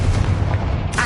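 A Confringo fire spell from the Hogwarts Legacy video game lets out a dense, loud blast of roaring, crackling energy that fills the short moment, with a brighter burst at the very end.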